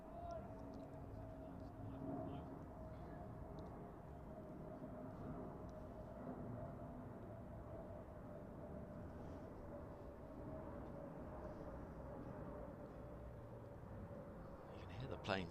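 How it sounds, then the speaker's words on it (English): Aircraft fly over a cricket ground during a Surrey v Hampshire County Championship match, a steady distant drone sustained throughout with faint ambient crowd noise beneath. "You can hear the planes overhead."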